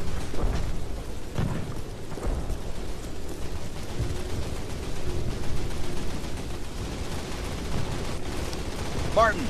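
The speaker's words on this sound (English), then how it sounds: "Maybe the gunshots were that loud that he just didn't notice." Gunfire crackles throughout a World War II battle in the original Call of Duty, dense and continuous with sharp bursts, heavy low rumble and explosions, and a voice talking over the din.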